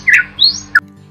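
An Oriental magpie robin gives three loud, sharp calls in quick succession: a squawk, a rising whistle and a short final chirp over a faint background hum.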